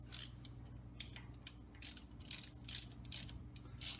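Socket ratchet clicking as it turns bolts on a rear brake drum of a full floating axle, a run of short bursts of ratcheting at a steady working rhythm over a low background hum, fairly quiet.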